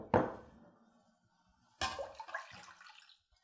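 Creamer and milk are poured into a bowl in two separate pours, each a brief liquid splash that quickly tails off, heard close with quiet gaps between.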